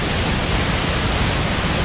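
Roar of a waterfall heard from right beside it in the Dombay mountains on the way to the Alibek glacier, a dense, steady rush of falling water filling the sound alone and loud.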